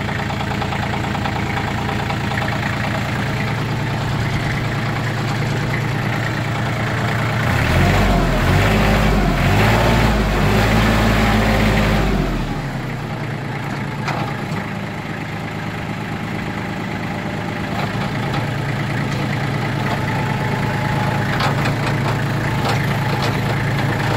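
Kubota ZL1-275 Japanese tractor with front loader, its diesel engine idling steadily nearby, rising to a louder, heavier labored run for a few seconds midway before settling back to a steady idle.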